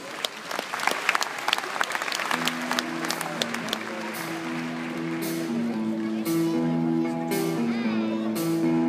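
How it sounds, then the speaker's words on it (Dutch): Steady, dense applause from a circus audience for the Bulgarian duo Civilinis and their Wheel of Death act, building from scattered claps into a full roar while sustained music tones play underneath. "Graag uw applaus uit Bulgarije."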